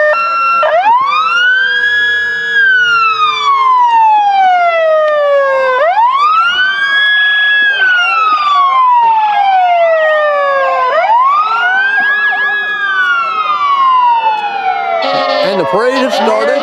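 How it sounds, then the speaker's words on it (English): A sheriff's vehicle siren wails loud and close at a Christmas parade, rising and falling in long, repeating sweeps with layered overtones, a second horn-like tone and some crowd noise under it. "You can hear all the sirens going"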